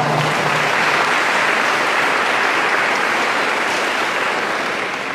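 Steady, full applause from a congregation at a Catholic Mass for the church choir, many hands clapping evenly and densely for several seconds before easing slightly.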